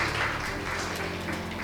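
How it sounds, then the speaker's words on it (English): An audience at a primary school quiz gives a big round of applause, a dense, steady wash of clapping from many hands that holds for the whole short moment. "A big hand of applause"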